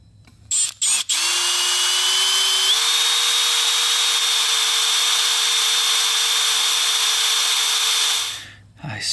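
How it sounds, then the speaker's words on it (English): Power drill boring a hole into a failed Toyota electric water pump: a loud, steady high whine runs close up for about seven seconds after two brief starts, pitch stepping up slightly before the motor winds down. "I still drilled a little bit deeper"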